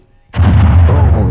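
A single loud firecracker blast bursts suddenly in a Malayalam comedy film scene, followed by a heavy, rumbling roar that lingers at close range.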